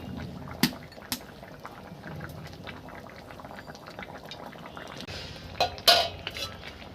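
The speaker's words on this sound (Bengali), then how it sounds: "বলক ওঠার পর আমি মাছগুলো আমি এবার মাছগুলো দিয়ে দিচ্ছি।" Fish goes into a boiling tomato and potato curry: a soft, constant bubbling is broken by a few sharp clinks and clatters of a pot and utensils.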